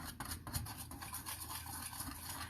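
Sugar-free pudding protein cheesecake mixture being whisked by hand, a continuous wet scraping and swishing with a steady stirring rhythm, close and fairly quiet.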